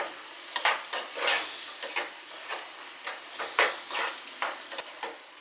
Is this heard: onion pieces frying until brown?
yes